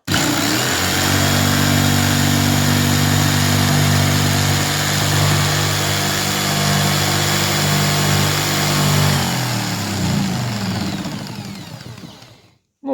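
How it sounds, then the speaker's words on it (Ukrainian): A jigsaw cuts through an ondulin roofing sheet, a loud continuous buzzing motor with rattling blade strokes that holds steady, then winds down and fades out near the end. "просто беремо лобзик, так його тримаємо рівненько"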